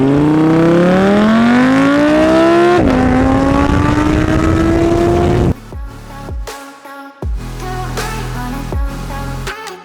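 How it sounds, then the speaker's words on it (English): A Mercedes AMG GT accelerates hard from 0 to 60, its engine rising in pitch through two loud gear pulls, then falling into choppy, broken revs and shifts close to the listener, with no talking. "you got to do 0 to 60 for me one more time"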